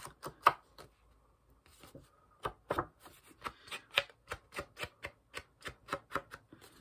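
Decorative pinking scissors cut through a postcard, giving a quick series of crisp snipping crunches in a close, quiet room, at first irregular and then settling into an even rhythm.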